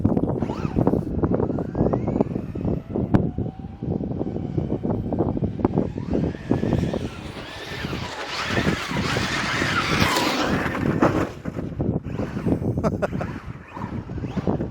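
A Traxxas RC rally car drives over loose gravel marbles, its high-pitched motor whining and revving continuously amid crunching gravel and gusty wind noise on the microphone.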